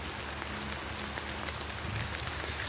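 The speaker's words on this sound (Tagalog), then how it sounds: "Kasi nag-uulan na ulan na talaga." Steady autumn rain falls outdoors in Moscow, a constant even hiss with scattered drop patter and a faint low hum underneath, with no talking.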